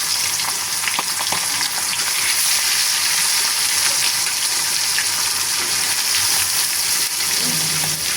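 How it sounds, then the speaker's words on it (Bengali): Pieces of pangas fish sizzle loudly in hot oil in a pan, a dense, continuous crackling hiss that stays strong and even from start to finish, with no voices. "এখন আমি তেলের মধ্যে একে একে করে মাছটাকে দিয়ে দিচ্ছি।"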